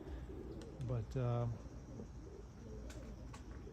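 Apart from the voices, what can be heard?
Birmingham roller pigeons cooing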